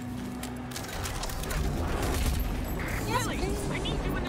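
Rifle gunfire in Rage 2 crackles in a rapid, continuous volley under a voice, with mechanical clatter and a few brighter sweeping effects near the end.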